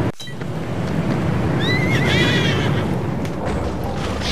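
A unicorn whinnies while set on fire in the video game Trials Fusion, a loud high wavering neigh over a roaring burning rumble, following a sharp thud at the start.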